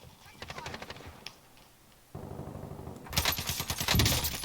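Shotgun fire during a video game shooter match, scattered rapid shots that swell into a louder burst near the end, with a player's voice talking underneath.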